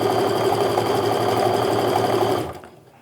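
A sewing machine stitches fabric strips fast and steady at close range, its rapid needle chatter stopping abruptly near the end.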